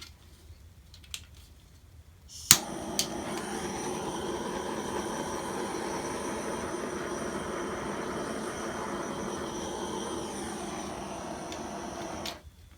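A handheld torch roars steadily over a fluid-art ring pour of wet acrylic paint, a constant hissing rush that starts with a click and runs about ten seconds before cutting out, alone with no talk.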